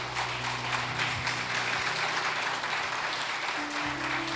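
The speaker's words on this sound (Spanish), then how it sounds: "Y denle un aplauso al Señor." Congregation applause during a church service, a fairly quiet, steady wash of clapping from a gathered crowd lasting a few seconds, with low hum underneath.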